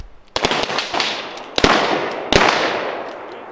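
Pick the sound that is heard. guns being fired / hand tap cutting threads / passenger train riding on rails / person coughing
guns being fired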